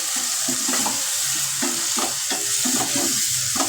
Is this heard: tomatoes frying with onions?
yes